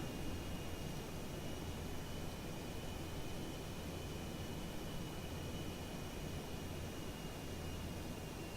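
An aircraft engine in a flight simulator video game makes a steady, even roar like broadband hiss. It is constant and unbroken, with no voices.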